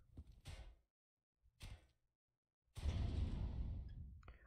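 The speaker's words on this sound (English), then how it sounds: "let's activate this door" A door activating in the sci-fi game Red Solstice 2: two short mechanical bursts, then a loud, broad whooshing rumble that sustains for over a second before trailing off.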